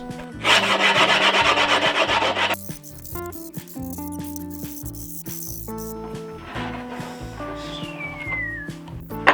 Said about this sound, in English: you just want to rub it and push it against the grip tape very aggressively